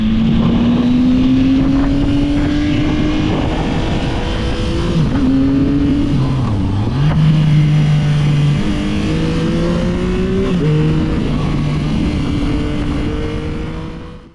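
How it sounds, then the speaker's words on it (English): A 2024 Yamaha MT-09 motorcycle engine with a sound-enhancing setup revs up and down repeatedly, loud and close, its pitch rising and falling in several sweeps with wind buffeting over it. "these are to enhance the sound of the engine"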